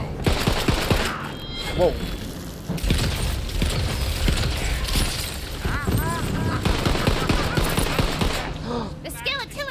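Shotgun blasts fire in Tiny Tina's Wonderlands, a string of loud, punchy shots spread over the clip with mechanical clatter and game effects, while someone talks and exclaims over the action.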